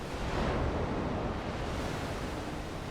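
A waterfall rushes in a horror video game called Forewarned, a dense, steady roar of broadband noise that stays loud and constant with no voices over it.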